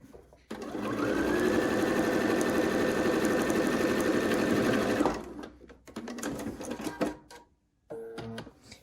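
A sewing machine stitches a quilt block seam with a fast, steady whirring drone for about four seconds, then stops, followed by quieter clicks and handling of the fabric.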